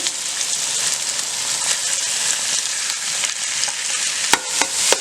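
A pound of fresh chorizo frying in Italian olive oil in a pot for paella, giving a loud, steady, close sizzle with a few sharp crackles and stirring clinks near the end.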